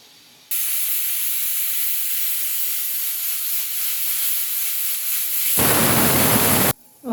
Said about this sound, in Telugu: ఒక విజిల్ వచ్చింది ఫ్రెండ్స్,